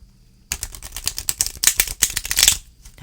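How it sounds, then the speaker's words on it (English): Tarot cards riffle-shuffled at close range, a loud rapid flurry of fluttering clicks that starts abruptly after a moment of quiet, rises and then tapers off, with no voices. "But how do they shuffle,"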